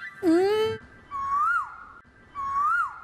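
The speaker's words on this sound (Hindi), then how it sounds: "कोयल की आवाज कहां से आ रही है?" An Asian koel calls, a sliding whistled note followed by two rising-and-falling whistles repeated at an even pace, loud and close with no talk.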